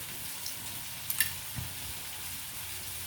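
Eggs fry in a pan of fried onions with a soft, even sizzle and crackle, fairly quiet throughout, and a few faint ticks and one dull knock along the way.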